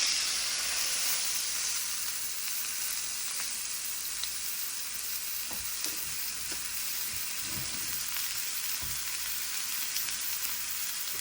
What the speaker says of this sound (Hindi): इसके ऊपर इस तरह रिंग में कटे हुए प्याज भी डालते हैं